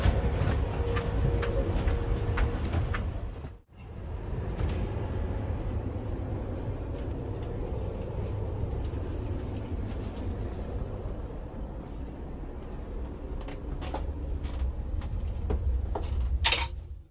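A continuous low rumble of the Caledonian Sleeper train rolling along rails in Scotland, heard from its passage, with scattered clicks and rattles and a brief dip in the noise partway through.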